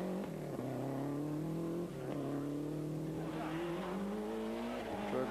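A Ford Escort Cosworth four-wheel-drive rally car runs through a special stage at the 1993 Ypres Rally, its engine droning and rising in pitch as it passes, heard steadily at a moderate distance.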